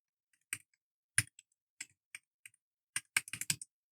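Fingers tap out a short word on a computer keyboard, a handful of crisp, close keystrokes spaced irregularly and ending in a quick cluster, in a quiet room.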